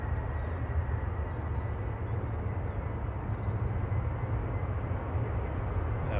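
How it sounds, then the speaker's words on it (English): A Ryanair jet departing Manchester Airport for Milan gives a steady, broad roar of engine noise that holds constant throughout at moderate distance, with no voices. "Whilst Ryanair to Milan departs in the background"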